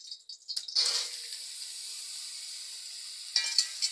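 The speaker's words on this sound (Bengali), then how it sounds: "ভাজার জন্য অল্প করে তেল দিয়ে দিয়েছি" Boiled banana-flower pieces hit a little hot oil in a pan with a short burst of hissing, which settles into a thin, steady sizzle before a brief second flare near the end.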